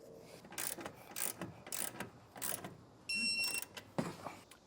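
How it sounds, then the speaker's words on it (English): Ratcheting wrench clicks tightening a nut on a carriage bolt during installation of Air Lift LoadLifter 5000 rear air helper springs, heard as several short bursts of ratchet strokes with brief pauses, close and moderately loud. "we'll get the nut tightened and torqued down"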